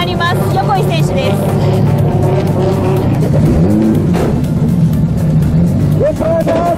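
A D1 Grand Prix drift car of about 1000 horsepower revving loudly and continuously, with rising and falling engine pitch up close, as people talk over it.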